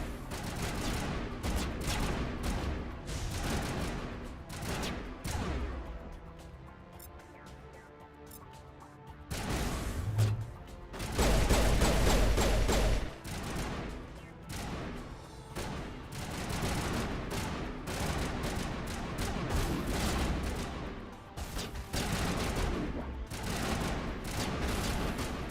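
Continuous gunfire from Mass Effect Legendary Edition: rapid, dense bursts of shots with brief pauses and a louder barrage partway through, under game effects.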